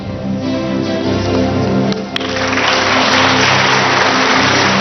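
Music plays at first, then a crowd's applause at a televised presidential running mates debate swells and takes over, loud and continuous to the end.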